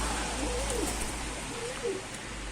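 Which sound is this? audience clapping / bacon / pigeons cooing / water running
pigeons cooing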